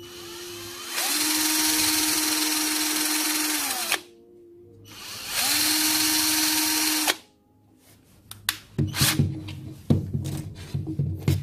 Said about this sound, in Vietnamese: Các bạn thử bằng khoan này, nếu mà thấy nó trơn là được, nó không bị lắc cái gì nhé.